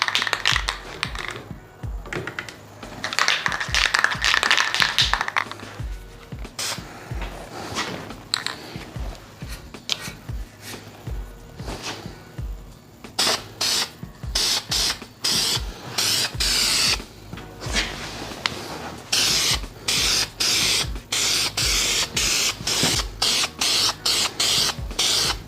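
Primer is sprayed in short, repeated hissing bursts onto a repaired dent on a car, with pauses and some handling clatter between passes.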